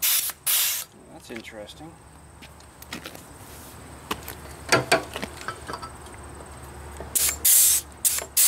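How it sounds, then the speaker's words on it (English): An air-powered grease gun greasing a new mower deck bearing gives several short, loud pneumatic hisses and bursts, with clicks between them and a brief remark from a man. "let me grab the air power greaser"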